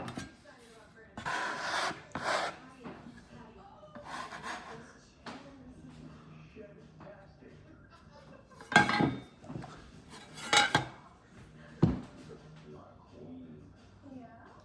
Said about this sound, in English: I'm just kind of letting the roller do the work for me.